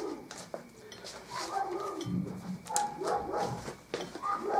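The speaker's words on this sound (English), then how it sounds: "While the crazed dog next door is barking." A dog barks and whimpers a short way off, on and off, while dishes and cutlery clink close by.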